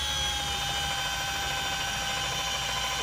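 A cordless polisher on its lowest speed setting, 900 RPM, works over sanding marks, making a steady, faint, continuous whir with a thin high hum and no breaks.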